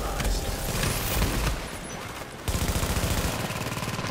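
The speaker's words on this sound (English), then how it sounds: "Stop shooting that fucking garbage ass gun" Automatic weapon fire in the video game Tom Clancy's The Division: loud, dense bursts of rapid gunshots, a sustained fusillade that pauses briefly before resuming as a steady, evenly paced stream of shots, with no talking.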